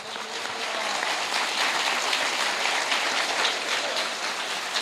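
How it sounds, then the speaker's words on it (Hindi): A congregation in a prayer meeting hall in Gadchiroli, Maharashtra, during a Christmas celebration claps in a dense, even roar of applause that holds steady throughout at moderate distance. "जोरदार ताली खुदा के लिए।"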